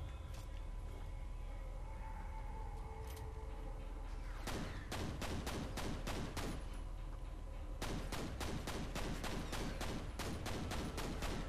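Gunfire rattles through a shootout in the game F.E.A.R.: dense rapid bursts of shots in several volleys, with quieter sporadic pops between them over a steady background bed.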